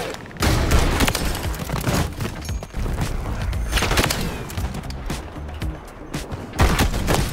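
Kar98k rifle fire in a shooter video game, several sharp loud shots with booming tails spaced through a dense stretch of battle noise, close and dominant without talk.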